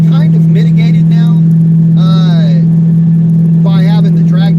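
A Mopar car with a drag pack and 3.09 gears cruising at speed: a loud steady engine drone with a strong constant hum, while someone talks over it in bursts.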